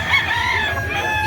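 A quality rooster from Cebu gives one loud, close crow that stretches across the moment with no talk over it.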